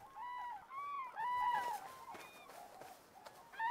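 Wintering cranes in a Spanish dehesa give a series of rolling, trumpeting calls, several overlapping bugles at moderate distance over a quiet open background.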